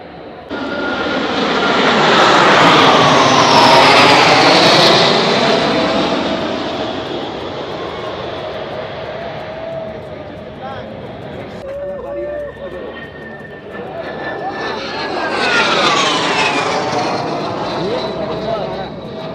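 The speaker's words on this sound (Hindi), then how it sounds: "जब सामने आप देख रहे होंगे ये हेलीकॉप्टर है, वो इस तरह से निगरानी करता है इसकी" A helicopter patrols over the Giza pyramids in Egypt, its loud rotor and engine roar swelling as it passes near, fading, then building again, while someone talks over it throughout.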